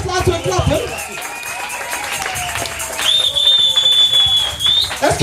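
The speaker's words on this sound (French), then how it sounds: "Als je het gelooft, laten we klappen." A church congregation claps and cheers, with a steady wash of applause and voices, a loud whistle-like tone held through the second half, and speech over the crowd.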